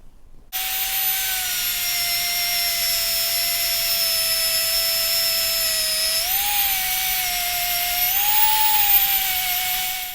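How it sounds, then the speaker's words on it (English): A Dremel rotary tool running with a polishing disc and Autosol compound on UV resin in a woodworking piece, a steady high-pitched whine that briefly shifts pitch twice as load changes, close and continuous. "a bit of Auto Sol polishing compound and a polishing disc on a Dremel"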